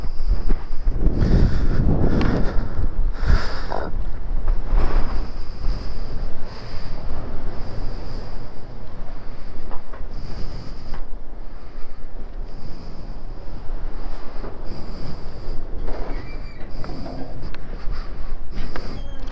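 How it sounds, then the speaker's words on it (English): Strong wind buffets the microphone at Corcomroe Abbey, a ruined medieval abbey in Ireland, roaring in loud uneven gusts throughout with heavy low rumbling bursts and no voices. "This is an awful wind there today."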